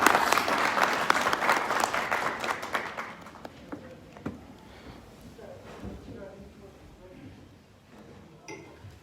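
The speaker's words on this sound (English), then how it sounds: "a round of applause for him, please" An audience at a program on banking and monetary policy in Afghanistan applauds the chief guest as he is called to the stage, loud clapping for about three seconds, then fading into sparse claps and room murmur.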